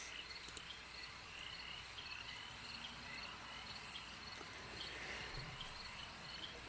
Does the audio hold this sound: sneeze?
no